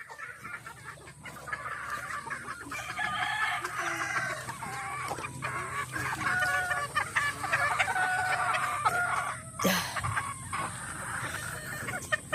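A flock of breeding chickens clucks steadily and busily, with roosters crowing now and then, all fairly close and continuous with no talk over it.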